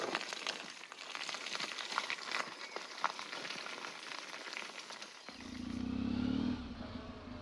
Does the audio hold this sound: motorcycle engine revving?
yes